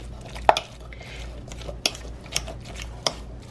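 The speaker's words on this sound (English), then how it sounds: "I'm breaking up this tuna because I want to mash it" Canned tuna for a tuna melt salad is broken up and mashed in a bowl, with soft squishing under a few sharp clicks of a utensil against the dish, close and fairly quiet.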